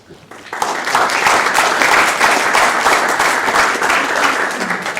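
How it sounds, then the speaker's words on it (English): Sustained audience applause at a student association meeting, bursting in after a brief pause and holding as a dense, loud patter of many hands clapping through to the end. "let's give them a big round of applause"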